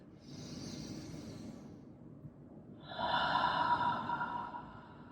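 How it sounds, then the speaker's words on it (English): A slow, deep breath drawn in and then released, two long airy phases close to the ear: a soft inhale followed by a fuller, louder exhale in a quiet room. "And one more deep breath like that"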